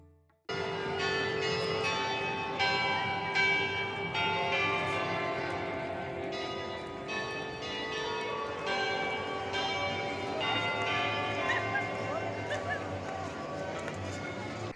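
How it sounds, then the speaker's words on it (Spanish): Bells of a clock near the Basílica de Guadalupe ring out a melody dedicated to the Virgin, with clear sustained tolling tones overlapping continuously, loud and resonant, over faint crowd background. "nos tocó escuchar las campanadas de reloj con una canción dedicada a la Virgen"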